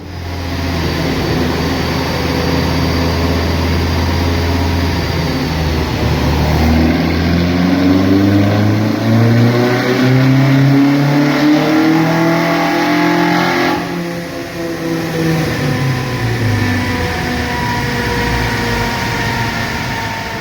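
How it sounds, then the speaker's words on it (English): A high-compression 2.0-litre 16-valve race engine with individual throttle bodies, fitted to a Mk2 track car, revs hard on a dyno, climbing in pitch, holding a loud howl, dipping briefly, then rising again in a continuous, close roar. "I get to hear the car on the dyno"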